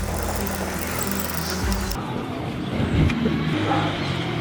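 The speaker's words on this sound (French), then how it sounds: "Il n'y a pas une bagnole qui passe normalement dans le lotissement en 2 heures, et là il y en a 15 en 20 minutes" A car passes along a quiet residential subdivision street, its broad road rumble swelling and fading nearby over about four seconds, with no talk.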